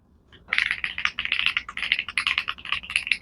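Brisk typing on an AUSDOM wireless mechanical gaming keyboard, rapid clicky keystrokes close up after a brief quiet start, steady and continuous.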